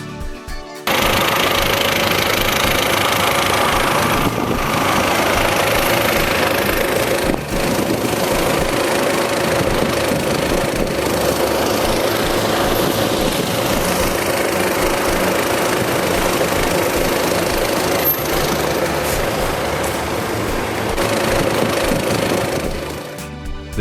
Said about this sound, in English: The John Deere 6830 proved that with a roaring power show, its engine note echoing through the fields